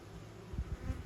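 Carnica honey bees buzz in an opened hive, a close, continuous drone with a few louder swells from bees passing near.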